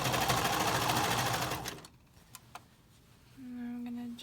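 Sewing machine stitching elastic onto the waist of a knit dress, a fast dense whirr for under two seconds, then quiet handling clicks before a softer motor hum resumes.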